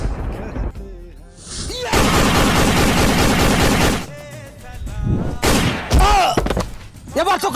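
Gunfire in an army-themed village skit cracks out in loud, dense bursts that alternate with stretches of people talking.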